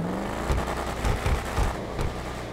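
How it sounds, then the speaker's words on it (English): A Bravado Buffalo STX car engine in Grand Theft Auto revs in repeated bursts over a steady exhaust rumble, loud and close, with throttle blips rising and falling. "let's take a closer look and hear the exhaust sound"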